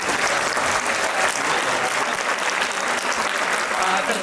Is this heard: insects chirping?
no